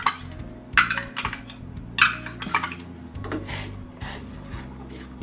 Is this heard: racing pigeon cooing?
no